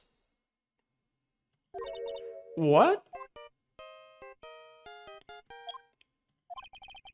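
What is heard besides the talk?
phone ringtone playing Steel Samurai theme, Phoenix Wright video game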